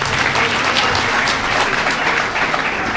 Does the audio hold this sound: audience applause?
yes